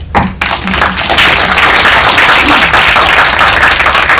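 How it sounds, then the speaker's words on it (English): A room full of people applauding, dense steady clapping that starts almost at once and holds loud and even throughout. "So we can give ourselves an applause for that."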